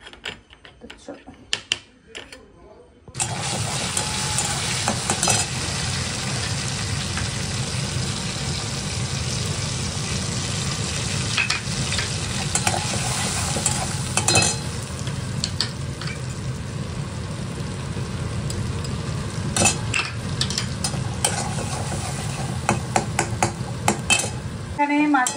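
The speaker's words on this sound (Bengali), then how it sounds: "এখানে মাছের ঝোলের মশলা কষানো হচ্ছে" Fish curry spice paste is sautéed and stirred in a pan, giving a dense, continuous sizzle with scraping and clinks of a spatula against metal. It starts abruptly after a few seconds of quieter kitchen noise and stays loud and close.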